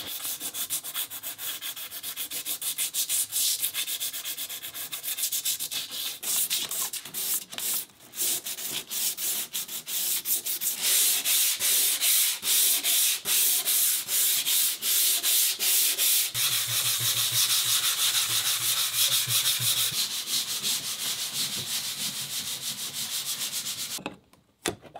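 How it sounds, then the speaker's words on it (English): Hand sanding on a boat surface, a continuous close rasping rub with rhythmic back-and-forth strokes that grow louder and harsher midway before stopping abruptly at the end. "How much am I trying to sand off? Only a tiny bit."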